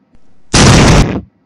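Explosion sound effect: a single loud, dense burst lasting about half a second, cutting off sharply with a short tail and no voices.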